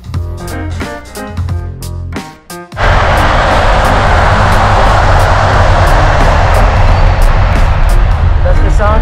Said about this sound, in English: That's the sound of an airplane. We're just right beside the runway